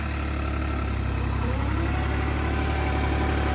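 A New Holland tractor engine runs steadily at about 1500 rpm, a loud, close, even diesel drone with a deep throbbing rumble that holds constant throughout, with no voices.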